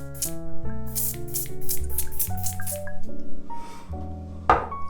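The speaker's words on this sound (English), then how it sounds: "the atomizer works really well on getting you that spray" An aftershave atomizer gives several short close sprays in a quick irregular burst, with one louder hiss near the end, all heard over a steady background of musical tones.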